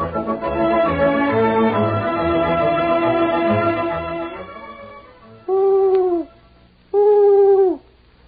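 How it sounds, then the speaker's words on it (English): After a passage of music, two drawn-out owl hoots sound close and clear, each a steady tone about a second long that tails off slightly, with a short gap between them, on an old, narrow-band radio recording. "the owl is a wise old bird"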